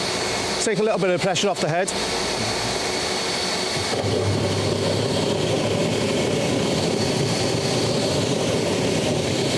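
An industrial vacuum runs alongside an HTC 500 concrete floor grinder, a constant loud roaring whine that carries through the clip, under a man's brief instructions near the start.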